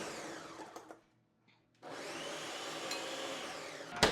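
A kitchen blender loaded with a sweet blend that includes honey whirs briefly and falls silent. It is then switched on again and runs with a loud, steady, grinding roar, with no one talking.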